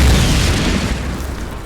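A mortar shell explodes in the PC game Call of Duty 1, a loud, close, heavy boom with deep rumbling that fades slowly over under two seconds.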